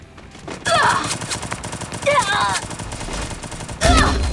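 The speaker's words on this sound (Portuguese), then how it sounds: "Já tomei tiro, nem vi de onde veio." Gunfire in the Free Fire battle-royale video game: several loud bursts of rapid shots, at about 0.7 s, 2 s and 3.8 s, over busy game sound, with a player talking throughout.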